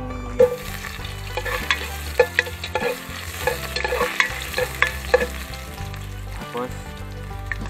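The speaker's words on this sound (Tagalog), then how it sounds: "gigisahin muna natin yung sahog. Ano tayong luya, bawang at saka sibuyas." Ginger, garlic and onion sizzling in hot oil for native chicken tinola, steady frying hiss with repeated scraping stirs of a utensil against the pan, close and continuous.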